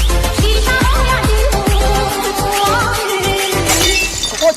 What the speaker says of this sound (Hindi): जिसकी वजह से पीछे के ग्लास टूट गई